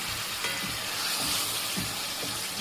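Liver pieces dropped into hot oil for Alexandrian-style liver, frying in a steady, dense sizzle that runs evenly throughout with faint clinks underneath.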